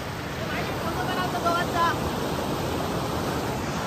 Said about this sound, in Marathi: मित्रांनो पाण्याचा प्रेशर बघा किती आवाज तुम्हाला येत असेल पाण्याचा